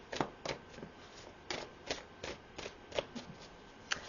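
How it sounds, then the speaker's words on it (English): Tarot deck being shuffled and cards pulled, a close run of soft papery riffles and flicks in uneven bursts, alone without voices. "I want to pull a couple more cards on that Tower card"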